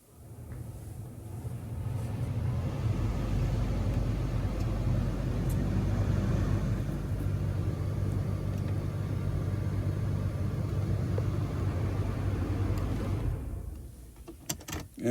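A replacement front blower fan motor in a Dodge Grand Caravan ramps up and runs as a steady, loud whooshing hum for about twelve seconds, then spins down with a few clicks at the end.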